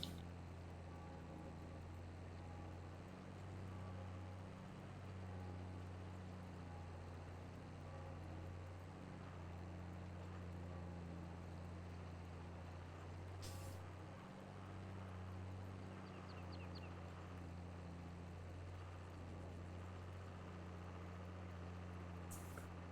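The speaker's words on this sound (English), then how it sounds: "this tractor seems to do very well on this field. Seems to just chug along happily." Tractor engine in Farming Simulator 22 chugging steadily while working a field, a low continuous drone with a steady hum that holds for the whole stretch.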